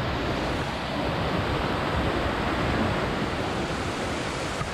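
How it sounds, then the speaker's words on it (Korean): Cheondang waterfall roars as a dense, steady rush of falling water, loud and unbroken throughout, with no voices over it. "너무 근사한 폭포. 이게 무슨 폭포? 천당 폭포."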